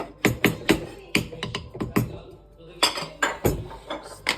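A metal lid goes onto a pot of chicken biryani with a run of close, sharp clanks and clinks, several quick knocks, a short pause, then more rattling contact.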